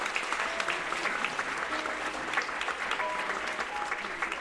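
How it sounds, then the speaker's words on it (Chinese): Wedding guests at a church marriage ceremony applaud the groomsman and bridesmaid, a sustained, even patter of many hands clapping in a large room. "让我们给伴郎瑞俊和伴娘安妮一个热烈掌声。"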